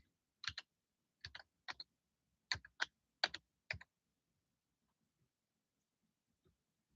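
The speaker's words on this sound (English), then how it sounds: "I'm gonna go ahead and type that in right quick and see." Keys on a computer keyboard clatter in several quick, faint bursts over the first four seconds, followed by near silence.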